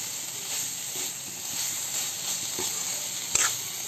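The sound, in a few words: soybean chunks being stir-fried in spice paste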